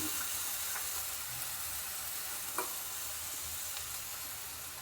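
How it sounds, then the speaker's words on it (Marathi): Bitter gourd with jaggery and tamarind is sautéed in a pan, producing a soft, continuous sizzle with faint scraping stirs, fairly quiet and steady throughout. "आता छानपैकी याला परतून घेऊया"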